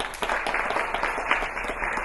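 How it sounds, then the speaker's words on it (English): Audience applause for keynote guests at the CGTantra Expo 2011 inauguration, a steady wash of many hands clapping in a conference hall, moderately loud and continuous without talk. "Can I have a round of applause for Biren Ghosh"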